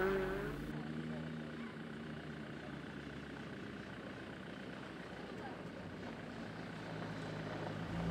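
A Renault Clio rally car races fast along a stage at a Finnish rally in Kouvola, its engine a steady sustained drone, with a voice talking over it.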